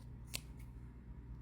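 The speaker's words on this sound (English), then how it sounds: "you take your scissors" A single sharp scissors snip, cutting a cord in a quiet indoor setting, with a second fainter click just after, over a low steady hum.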